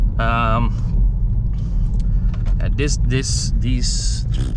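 Low, steady engine rumble fills the cabin of a BMW 1 Series pulling slowly along a snowy, wet road, with a voice talking loudly over the drone throughout.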